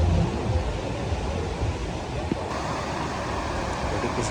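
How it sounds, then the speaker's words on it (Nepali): The Bhote Koshi river rushes in a steady, broadband roar with no pauses, loud and continuous through the whole stretch. "यो चाहिँ भोटेकोसी खोला हो"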